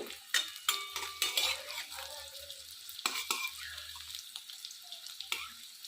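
Pieces of cabbage dhokla fry in a pan, with a close, steady sizzle broken by scraping and clattering as they are moved and turned. No one speaks.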